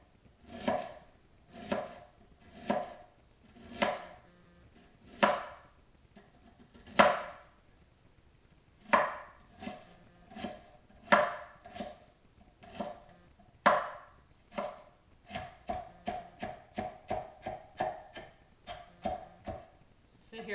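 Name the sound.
chopping peeled ginger with a knife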